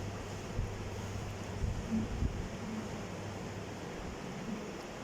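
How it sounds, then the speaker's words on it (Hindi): Wind rushes steadily against the microphone, a constant breathy roar over a low hum, with a few slightly stronger gusts. "थोड़ी अभी हवा चली है, आंधी है थोड़ी सी।"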